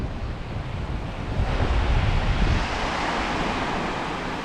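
Surf washes continuously onto Omaha Beach in Normandy while wind buffets the microphone, a broad steady roar that swells slightly in the middle and then holds.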